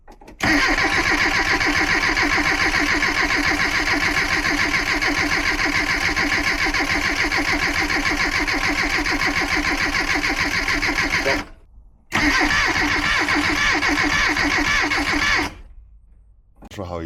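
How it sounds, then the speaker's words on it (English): A small engine roars loud and close at high revs, holding a steady buzzing drone for about eleven seconds, briefly cutting out, then surging again before dropping off at the end. "at high RPMs it's bogging down and slowly dying"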